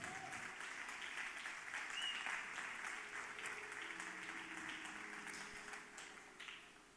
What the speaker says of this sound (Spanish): Si quiere dar un aplauso, déselo a Dios con fuerza.